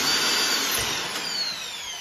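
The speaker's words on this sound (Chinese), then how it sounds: "我也要用水钻了，不过咱玩的是个小水钻，打个8毫米的孔" A small water drill bores 8 mm holes into a wall, a close, loud, continuous high whine with a steady grinding hiss.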